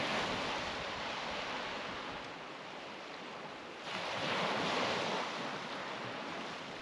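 Waves wash onto a beach at Faros on Ikaria on a cloudy early-May evening, a continuous close roar of surf mixed with wind rumble, swelling louder midway as a larger wave breaks.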